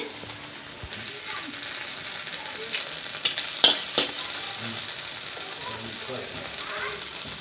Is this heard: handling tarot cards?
no